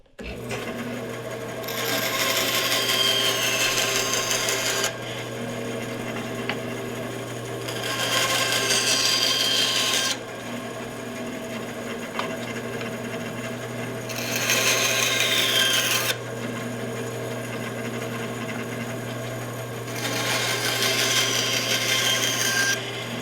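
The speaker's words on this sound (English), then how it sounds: "We're going to take the excess wood off and then chamfer in the sides to reduce that cross section for the mortising in the beams." A power tool trims excess wood and chamfers the sides of a snowshoe frame beam, four buzzing bursts of cutting several seconds each over a constant low motor hum, close up with no talk.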